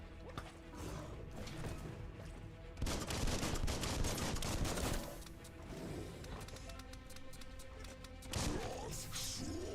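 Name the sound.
gunfire in Biomutant video game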